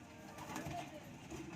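Pigeons cooing during bathing time for racing birds being prepared for a six-lap derby, soft repeated coos mixed with other bird calls and faint talking in the background.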